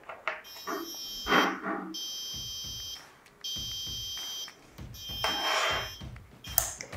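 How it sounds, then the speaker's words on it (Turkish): An Arduino buzzer module plays a series of shrill tones in bursts, each note held briefly with short pauses between, loud and close with faint background noise. "Sizler de farklı buzzer tonlarıyla dilediğiniz melodileri çalabilirsiniz."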